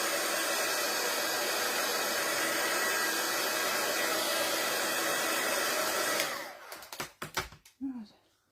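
A heat tool blows steadily and loudly for about six seconds, drying a wet layer on a craft sheet, then cuts off and leaves a few clicks and handling knocks.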